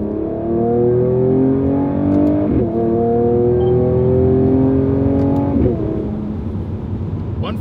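A 2019 Mercedes-AMG CLS 53 engine revs steadily and loudly up close, its tone rising in repeated sweeps with brief dips between pulls, and no talking over it.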